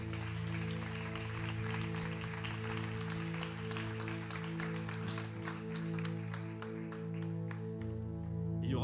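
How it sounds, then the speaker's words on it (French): Applause from a congregation at a baptism gathering: steady, moderately faint clapping over a continuous low hum and sustained tones in the room, fading toward the end. "pouvez applaudir Ilona."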